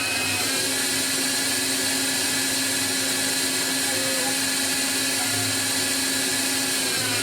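Tormach lathe turning a titanium LBS screw with a 35-degree tool: a steady, moderately loud machine hum and whirring drone throughout, with a constant high-pitched tonal whine and no voices.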